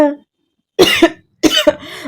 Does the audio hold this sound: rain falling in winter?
no